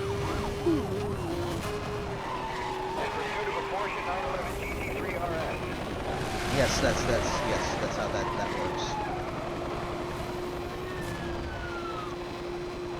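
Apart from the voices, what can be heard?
police siren in a video game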